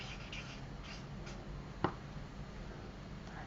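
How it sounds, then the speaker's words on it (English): A marker or pen writes a word large on paper with soft scratchy strokes, close and quiet, plus one brief sharp tap partway through. "so I'm going to write it nice and big"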